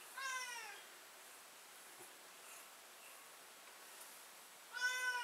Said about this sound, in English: Cat's freaking out in the background for some reason.